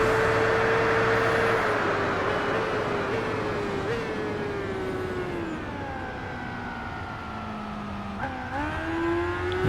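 A Suzuki GSX-R 750 motorcycle engine on the Grand Valley East course in the Tourist Trophy racing game, droning steadily at high revs with pitch dropping and climbing through gear changes, loud and continuous.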